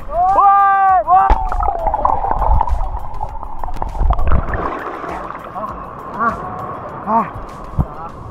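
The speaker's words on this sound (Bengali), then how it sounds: "ঢেউ আসছে।" Sea waves wash in at a beach on the Bay of Bengal coast, a continuous rolling surge of water that swells louder midway, mixed with excited voices and a steady hum running throughout.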